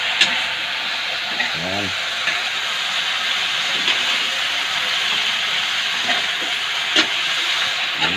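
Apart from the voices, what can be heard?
sautéing spicy chicken feet adobo in a pan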